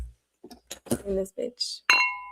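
Glasses clink together once in a toast, a bright, ringing chime near the end that follows a few moments of voices talking.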